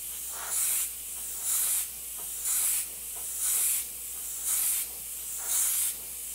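An airbrush sprays paint in light layers through a cutout cube stencil, six short, even bursts of close hissing spray separated by brief pauses.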